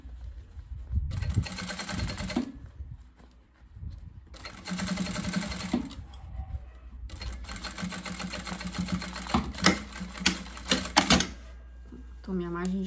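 A sewing machine stitching a satin ribbon drawstring bag runs in three long, steady bursts with brief pauses between, close and fairly loud.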